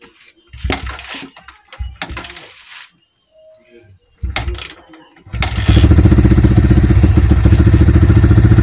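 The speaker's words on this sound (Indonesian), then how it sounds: "Kini akan kita cobakan nyalakan mesinnya" Clanking and kick attempts with brief voices, then a Yamaha Vixion motorcycle engine with a rough-running fault catches and settles into a loud, steady, throbbing idle close by.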